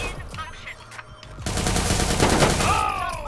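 Loud gunfire from a Watch Dogs 2 multiplayer match: a few scattered shots, then a dense burst of rapid fire that sounds close. Game effects and faint voices sit underneath.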